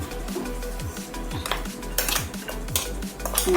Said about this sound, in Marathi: आता आपली चटणी बनवून तयार झालेली आहे तर ते आपण एका बाउलमध्ये काढून घेऊया